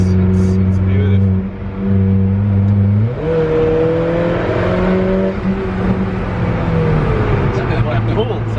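An Alfa Romeo 4C sports car accelerates on a road toward Malibu, its engine note rising in pitch and pulling hard for several seconds while people talk over it.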